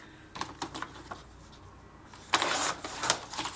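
Paper for a 20x20 Ocean Blue scrapbooking album being cut, a few light crisp snips early on, then a louder sustained scraping cut near the end, close and alone without talk.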